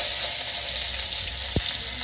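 Onions fry in a pan for chicken curry, giving a steady, close sizzle throughout with one brief low knock partway through.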